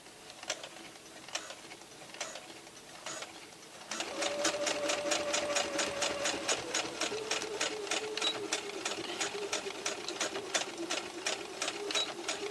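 A sewing machine stitching a circle skirt seam, with a short reverse stitch. Quieter, uneven stitching for a few seconds, then a louder, fast, even rattle of needle strokes that runs on steadily and close up.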